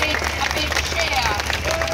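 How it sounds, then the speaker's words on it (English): A crowd at a political rally applauds and cheers, a brief burst of dense clapping with voices mixed in. "a big cheer"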